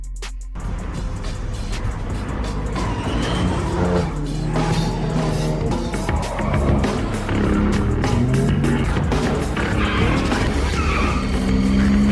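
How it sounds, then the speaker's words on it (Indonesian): Three cars arrive with tires skidding in a street-racing scene from The Fast and the Furious, a loud, steady roar of engines and screeching tires, layered with music-like tones throughout. "Tak lama kemudian 3 mobil datang."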